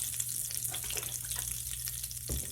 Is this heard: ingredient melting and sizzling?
yes